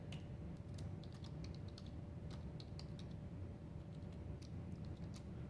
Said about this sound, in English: So bear with me while I type